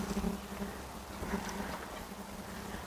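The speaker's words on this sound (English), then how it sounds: "We have bees out here because of the flowers" Bees buzz around flowers in an outdoor garden, a steady low droning hum close by, with faint wind and no talking.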